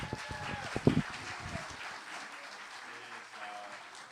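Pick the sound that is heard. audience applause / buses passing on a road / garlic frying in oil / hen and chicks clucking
audience applause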